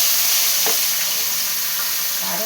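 Onions sizzle and fry steadily in hot oil in a pan for prawn curry, a continuous close hiss with a couple of soft stirring clinks and no talking.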